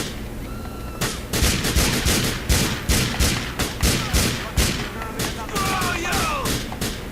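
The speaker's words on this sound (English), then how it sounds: "Oh, they're firing. They're firing at us." Heavy gunfire erupts during a funeral shootout in Grand Theft Auto IV, a steady run of loud, evenly spaced shots and bursts close by after a quieter opening second.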